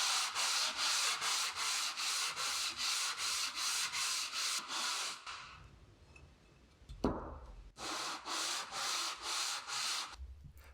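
Rhythmic back-and-forth sanding strokes on a metal Stanley No. 4 hand plane being restored, quick and even, pause briefly with a clunk of handling, then resume at the same steady pace.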